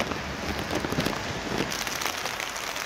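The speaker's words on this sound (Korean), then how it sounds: "저희가 잠깐 오프닝하는 사이에 비가 이렇게 쏟아지고 있는데" Heavy rain pours outdoors on a Busan street near Busan Station and the Choryang underpass, a dense, steady wash of rainfall with a little wind, filling the scene with no voices.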